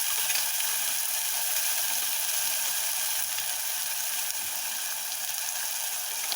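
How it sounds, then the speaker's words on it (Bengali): A spiced paste of coconut, cloves, cardamom, cinnamon and yogurt fries in hot oil for a prawn curry, giving a steady, bright sizzle with no talking. "সেই পেস্টটা আমি দিয়ে দিলাম তেলের মধ্যে।"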